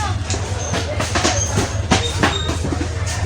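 The Mehran Express passenger train from Karachi rolls through Mirpurkhas station, its wheels clicking over rail joints in a steady clatter with faint squeals, loud and close, over a low rumble and background crowd voices.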